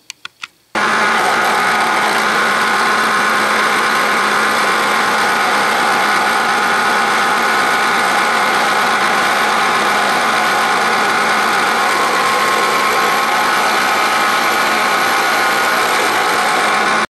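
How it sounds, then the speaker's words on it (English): Milling machine cutting a cast iron drill press vise casting with a 7/8 inch end mill, a steady loud whining grind sustained alone throughout after a few brief clicks at the start. "This is a 7/8 end mill. I'll take several passes till I get down to the depth and it cleans up."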